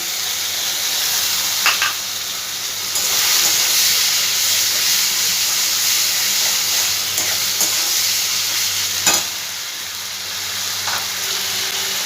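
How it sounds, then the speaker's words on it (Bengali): Chopped tomatoes fry in a pan for a Bengali morola fish curry, giving a steady close sizzle and hiss with a few brief stirring clatters, and no talk. "এবার এর মধ্যে টমেটো কুচানোগুলো আমি দিয়ে দিচ্ছি।"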